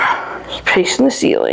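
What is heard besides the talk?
dogs barking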